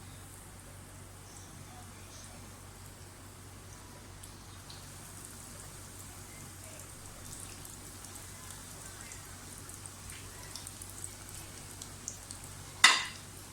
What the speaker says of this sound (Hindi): इनको शैलो फ्राई करते हैं। ऑयल हमारा गर्म हो गया है।